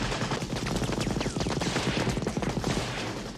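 Gunfire from the action film Raiders of the Lost Ark plays in a dense, loud burst of rapid shots with echoing cracks, running continuously for about three seconds.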